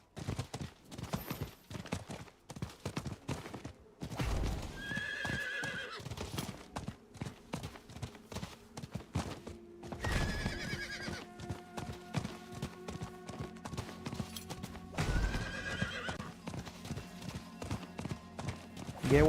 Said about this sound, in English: Oh, I have a horse